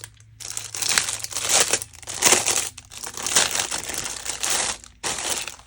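Plastic packaging of a pen case being opened, close crinkling and crackling in irregular bursts with brief quiet gaps, alone without talk.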